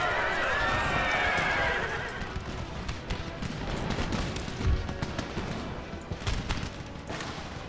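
Cavalry horses charge in the Empire: Total War battle, with whinnying and heavy clip-clopping hooves under a dense din of battle and scattered gunfire-like cracks.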